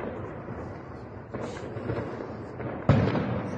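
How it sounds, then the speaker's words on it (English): Grenades go off in an open-air fight against militants, heard as several dull distant booms with rumbling tails, the last one sharper and louder, under a continuous noisy background. "Yeah, those are grenades."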